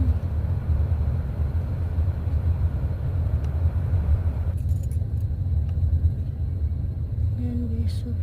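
Dense street traffic near Batha market rumbles continuously, a loud low engine drone of passing cars close by, with faint jangling and scattered clicks on top.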